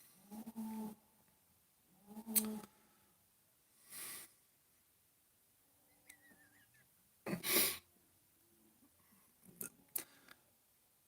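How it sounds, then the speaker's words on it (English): Cattle moo several times at a distance outdoors, a few separate low bursts spread across the stretch with quiet gaps between them. "Can you hear them cows roaring right there?"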